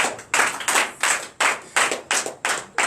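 During a night deliverance and prophecy service, a congregation claps in unison, sharp loud beats in a steady rhythm, eight or so strong strikes in under three seconds.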